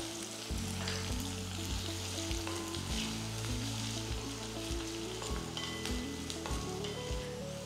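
Onions with a pinch of salt sautéing in a pan, a steady sizzle with the faint scrape of stirring and a low, repeating hum underneath.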